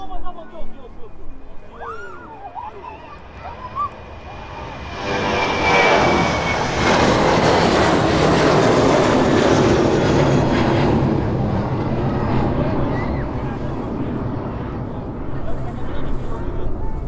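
An airliner on the Gran Canaria service approaches at East Midlands Airport, its engine roar swelling from a distant rumble to a loud, broad sustained drone, while someone talks over it throughout.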